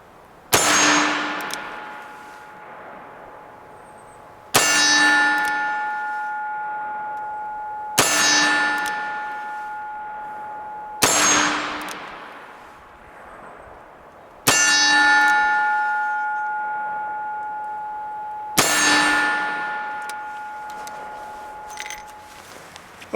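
Six bright metallic rings from 38 Special full metal jacket rounds fired single action from a Ruger GP100 Match Champion revolver, each striking a steel target about 30 yards away, evenly spaced every few seconds, each clang ringing out and slowly decaying.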